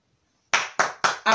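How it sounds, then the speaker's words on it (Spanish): Silence, then four sharp, evenly spaced hand claps close by, each striking and decaying quickly, as in a classroom lesson where the children applaud. "Aplausos"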